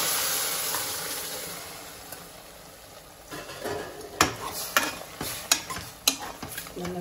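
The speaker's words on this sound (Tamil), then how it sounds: "கலந்து விட்டுக்கலாம்" Goat leg paya curry bubbles in a pot with a soft simmering hiss, then a spoon stirs it with a series of sharp metallic knocks and scrapes against the vessel, close and clear.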